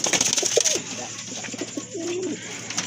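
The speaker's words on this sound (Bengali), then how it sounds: "বিগ সাইজের এক জোড়া আমেরিকান লক্ষ্য কবুতর রয়েছে" A pair of big American Lakkha pigeons coo softly in a low, rolling murmur, a few short calls close by over a steady background hum.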